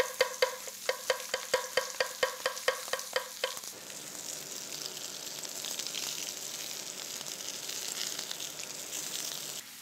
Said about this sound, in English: What I do is add some mushrooms right now so they start to cook and reduce the temperature in the pan.